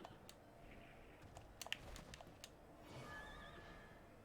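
A horse in the video game Bloodstained gives a quiet whinny, a short burst of sharp nickering pulses followed by a wavering high neigh over faint background game sounds.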